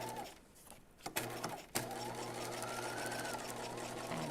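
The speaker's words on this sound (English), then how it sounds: "here I am top stitching along my marked line for the pocket, using that 3 millimeter length" A sewing machine top stitches a jeans pocket at 3 mm stitch length, starting with a few brief bursts and then settling into a steady, continuous whir at close range.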